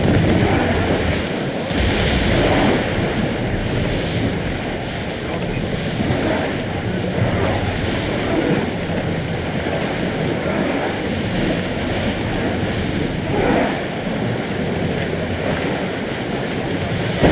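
A sailing ship cuts through ocean waves in Assassin's Creed Odyssey, with a steady wash of surf and roaring wind across the whole stretch, plus occasional louder swells.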